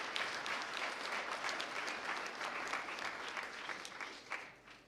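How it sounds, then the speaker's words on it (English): Audience applause at a regional government address in Omaheke rolls on as an even, steady patter of many hands, heard from some distance and fairly soft throughout. "Can you give a round of applause, please?"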